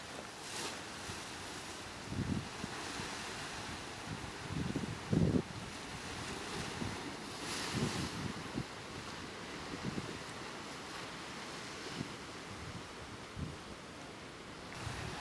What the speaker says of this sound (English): Between the scenery and the roar of the ocean, it won't take long to unwind at the Giant Stairs Trail on Bailey Island.